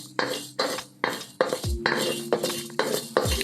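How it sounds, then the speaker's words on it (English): Dry dal lentils toast and get stirred in a hot pan for a methi curry, with repeated scraping and rattling strokes of a spoon against the metal at a steady rhythm, close and fairly loud, with no talking. "Next, we're going to heat up our pan and add our dal. And we just want to lightly toast this."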